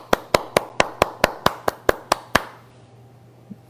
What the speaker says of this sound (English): an odd thing happened at the end of Joe Biden's press conference. The press applauded him.